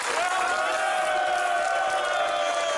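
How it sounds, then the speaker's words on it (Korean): A crowd erupts in loud, sustained cheering and shouting at the announcement of a Joseon-era Confucian academy's inscription as a UNESCO World Heritage site, a dense wall of voices without pause. "선포하자 환호성이 터져나옵니다"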